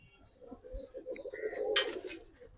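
A Cobra Silver pigeon gives a short, soft, throaty coo, faint and close, that swells briefly toward the end with no talk.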